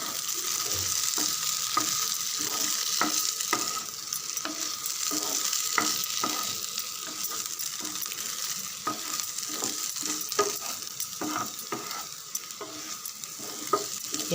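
A spatula stirs a masala potato snack in a pan with coriander leaves on top, giving steady scraping and tapping strokes over a soft background sizzle, close and even throughout.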